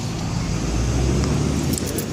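Loud downtown street traffic with trucks and motorcycles makes a heavy, continuous rumble of passing engines close by, dense low roar holding steady throughout with no one speaking.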